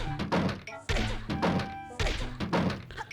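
Repeated dull thunks as Link's rolling attack bumps into objects in The Legend of Zelda: The Wind Waker, several solid knocks at a fairly steady rhythm, close and moderately loud over game background sound.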